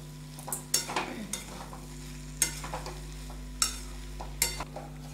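Chickpeas, boiled potatoes and spices stir-fry in a pan for a vegetarian chana masala, with repeated scraping stirs and clinks of a spoon over a low steady sizzle and a faint background hum.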